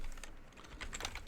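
A computer keyboard is typed on while writing code, a quick run of soft, close key clicks at an uneven pace, fairly quiet.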